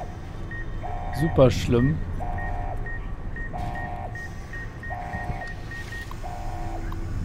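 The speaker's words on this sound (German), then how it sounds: "Kann man es ausmachen? Alarm ausschalten." Repeating electronic alarm beeps from the video game Fallout: New Vegas sound in an even rhythm, with a brief high blip between them, while someone speaks over the start.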